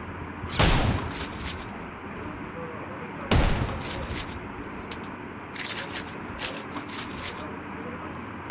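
Shotgun fire from a video game, with two loud, sharp blasts a few seconds apart over a constant busy noise bed, followed by a cluster of quieter clicks and clatter toward the end.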